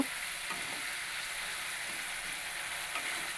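Chickpea dal with a pinch of asafoetida sizzling and being stirred in a pan, a steady close frying hiss with faint scraping of the spoon throughout, no voices.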